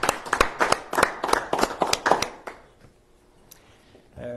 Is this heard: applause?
yes